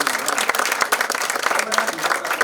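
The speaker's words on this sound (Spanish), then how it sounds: "un aplauso, vamos con un aplauso." An audience at a talk on personal branding applauds steadily, a dense wash of claps with a few voices rising through it.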